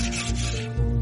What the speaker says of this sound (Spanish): Mientras lijo, voy girando el palo y así todas las cuentas tendrán el mismo tamaño.